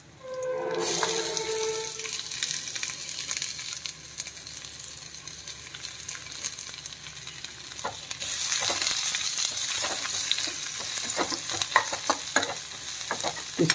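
Onions frying in a pan for South Indian rasam, a loud continuous sizzle that starts with a burst as they go in, followed by steady hissing with intermittent stirring clicks and scrapes; no one speaks.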